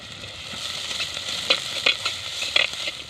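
Onions and crushed garlic sizzle steadily in a pan while a spoon scrapes and stirs with a few sharp clacks, close and fairly soft, with no talking.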